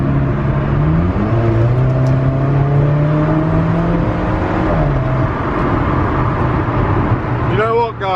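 An Alfa Romeo 4C sports car drives on wet roads heading into London, its engine a steady droning hum with gear-related pitch shifts throughout, heard from inside the cabin.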